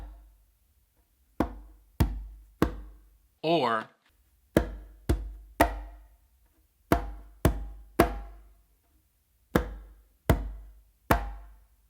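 Palm slaps and bass finger tones on a conga ring out as a dozen sharp, close strikes, each with a short decaying ring, spaced in a loose rhythm. A brief spoken word cuts in between the hits.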